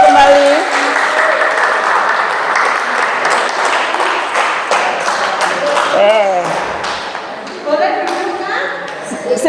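Audience in a school teachers' gathering applauds steadily at close range, a dense wash of clapping with a few sharper taps standing out and voices underneath.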